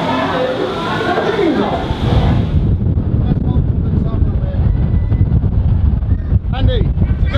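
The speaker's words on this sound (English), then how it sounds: "Oh, it's a bit windy up here." Strong wind buffeting the microphone high up on Blackpool Tower, a loud, continuous rumbling roar with faint voices underneath.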